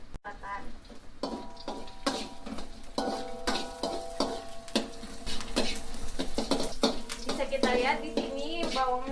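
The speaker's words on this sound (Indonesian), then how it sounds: "Kita tumis hingga layu dan kecoklatan" Onions sautéing in a pan for a GERD-friendly dinner, cooked until soft and browned, with a steady sizzle, stirring scrapes and utensil clinks against the pan. A voice talks over the cooking at times.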